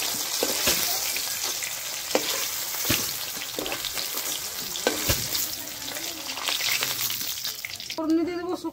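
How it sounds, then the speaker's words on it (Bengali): Fish frying in hot oil, a steady dense sizzle with crackling pops and occasional sharp spits, close and fairly loud, easing toward the end as a brief clatter takes over. "মাছ ভাজা হয়ে গেছে, এখন আমি নামিয়ে নিচ্ছি।"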